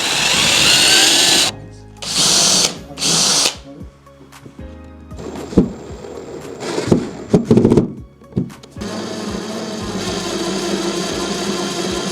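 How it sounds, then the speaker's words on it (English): A power drill boring a hole for the handle in a door being renovated, whirring in loud bursts that start and stop, with thunks and a busier stretch of motor noise mid-way before steady running. "You wanna use this to drill a hole for the handle."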